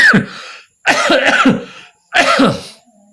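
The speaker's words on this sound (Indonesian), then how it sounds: "Nggak usah diedit ya, batuknya kita masukin sekalian ya." Three close, harsh coughing bursts in quick succession, loud and near, with short pauses between them.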